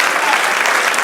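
A church congregation breaks into loud, dense applause, a brief burst of many hands clapping together close by and filling the room.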